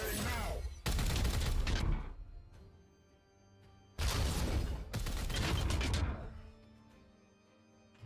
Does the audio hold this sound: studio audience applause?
no